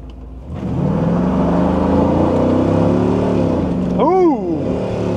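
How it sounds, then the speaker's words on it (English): A front-wheel-drive car with an LS engine revs at wide open throttle, its loud rising engine roar building steadily before a brief dip and climb as it shifts gear near the end. "let's see if she's gonna shift at a wide open throttle"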